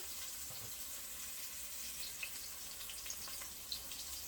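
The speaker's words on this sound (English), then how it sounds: "See, so I fry my okra." Okra frying in a pan gives a soft, steady sizzle and hiss, faint and close, with a few small pops and taps scattered through.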